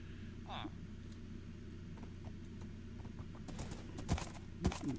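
Horse hooves clip-clop in the video game Minecraft: a run of light, quick hoofbeats that grows busier toward the end, over a constant low hum, with a voice talking in the background.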